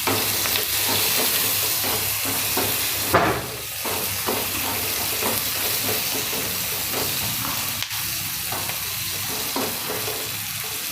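Soya chunks, boiled corn and vegetables fry and are stirred in hot oil, a close, loud steady sizzle with repeated scraping stir strokes and a brief burst of hissing steam.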